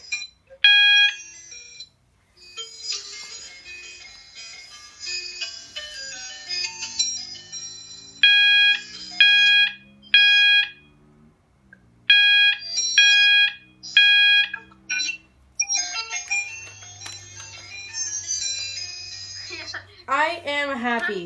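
A fire alarm set to its normal tone sounds in repeated bursts of bright, chiming tones, some in quick groups of pulses with brief gaps. A voice speaks between the bursts, close and fairly loud.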